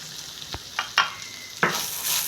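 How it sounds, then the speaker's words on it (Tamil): Grated coconut roasts in ghee in a pan, a soft sizzle running underneath a few distinct scraping stirs of a spoon against the metal. "கொஞ்சம் ஈரத்தன்மை போகிற வரைக்கும் வறுத்தா போதும்."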